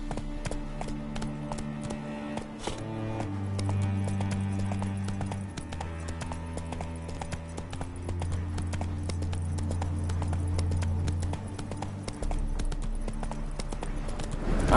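Hooves of a horse clip-clop steadily in the game Witcher 3, a rhythmic, fairly close trot over a low droning music bed, with no talk heard.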